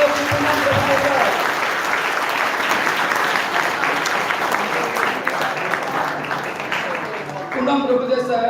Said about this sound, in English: Give a big round of applause to Poonam Prabhudesai.